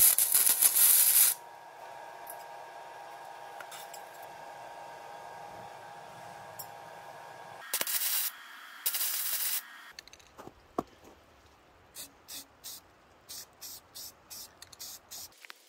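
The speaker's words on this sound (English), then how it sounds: "Then I gave everything a few coats of paint." Spray paint applied in a few coats to coil winder parts, with bursts of hissing spray, some long and some short, plus quiet handling noises between them.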